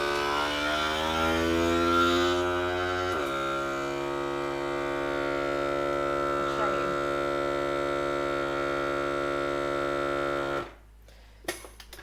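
Close by, a vacuum sealer pulls the air from a freezer bag of garden capsicums, its steady droning hum running for about ten seconds and then cutting off abruptly, followed by a few small clicks.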